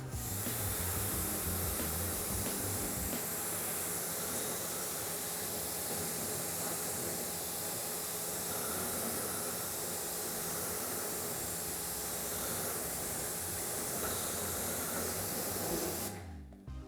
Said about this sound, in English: Now, let's spray it off.